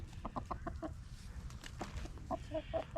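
A rooster clucks close by in a backyard yard where chickens make compost, a run of quick short clucks followed by a few higher drawn-out calls over a low rumbling background.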